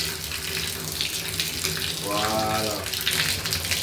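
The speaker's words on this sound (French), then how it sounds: "T'as pris une bonne douche." Shower water running steadily during a hair wash after a hair transplant, a continuous close rushing spray with a brief voice heard over it.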